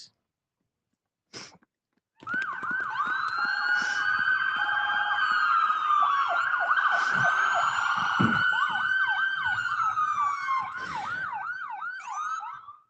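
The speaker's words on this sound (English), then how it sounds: "Would you give us 2 to 3 seconds of sirens for the Michigan State Police?" Several Michigan State Police car sirens wail together, rising and falling in overlapping sweeps after a brief silence, loud and steady for about ten seconds.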